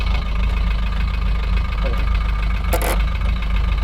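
A vehicle engine left running at idle, a loud, steady low rumble throughout, close by, with a brief sharp clatter near the end and people talking over it.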